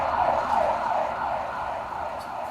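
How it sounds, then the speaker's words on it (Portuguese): Ambulance siren wailing in a continuous rising and falling sweep as it passes, loud and steady over faint traffic noise, with no talking. "Deixa a ambulância passar."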